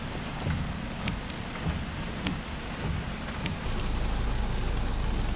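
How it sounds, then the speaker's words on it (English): Heavy, steady rain pours down during a thunderstorm near Mount Auburn, Illinois, with a dense constant hiss that swells louder in the last seconds and faint rumbling underneath; no one speaks. "It's still really rainy."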